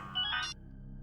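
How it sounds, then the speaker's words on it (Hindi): A short electronic ringtone-like tone burst, bright and mid-loud, lasting about half a second before cutting off into quiet room hum. "लगता है उसी का फोन।"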